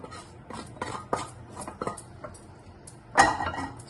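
A spoon mixes cooked menthi pindi pulihara, a fenugreek-spiced rice, in a bowl, giving a run of close, irregular metallic clinks and scrapes that ends in one louder knock.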